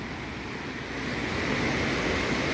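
The Río Tlapaneco in Mexico, running strong after Hurricane John, gives a steady, loud, broad rushing roar with no break.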